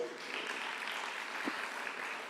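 Applause at the closing session of a United Nations World Data Forum, a steady patter of clapping from a seated audience, fairly faint and even throughout.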